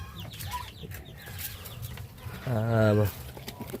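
Chickens cluck close by amid farmyard noise, with one louder drawn-out call near the end.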